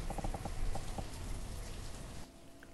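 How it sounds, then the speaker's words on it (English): Steady rain hiss from the video game Banished, a constant wash of falling rain with a few soft droplet taps, fairly loud, cutting off abruptly near the end. "I was just changing the volume because that rain was peeing me off"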